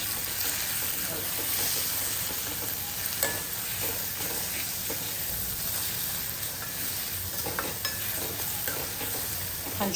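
Food tossed and mixed in a pan over a high flame after Kashmiri red chilli and salt go in, steady frying sizzle with repeated scraping and stirring strokes, close and fairly loud.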